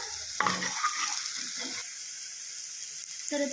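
Green chillies and onions drop into hot oil in a pan with a sudden burst of sizzling and stirring scrapes. The frying then settles to a faint hiss before another short rustle near the end.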